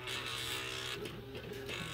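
A Smith Corona SL-575 electric typewriter sits switched on and idling, its motor giving a steady, quiet hum and whir with faint mechanical rattles, close by and unchanging.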